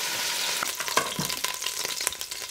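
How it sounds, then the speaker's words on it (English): Beef browning in a pot for beef noodle soup sizzles loudly and continuously up close, with crackly spits and a few scraping knocks, no voices. "Look at that, nice and browned."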